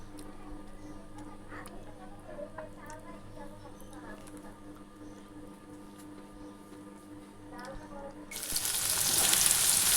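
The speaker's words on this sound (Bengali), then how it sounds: "এখানে পনির ভাজা বসিয়েছি" Paneer frying in a pan gives a steady low sizzle with faint ticking clicks and a murmur of voices in the background. Near the end a much louder, harsher hiss bursts in.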